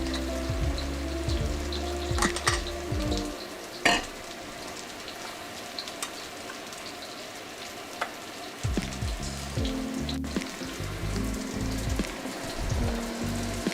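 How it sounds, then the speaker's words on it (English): Crispy tofu and shrimp pad thai stir-fries in a very hot oiled wok. The close, continuous sizzle is broken by scattered metallic clanks and scrapes as the wok is swirled. "we are giving the wok a good rotation, and that's just sort of like redistributing the oil here a little bit"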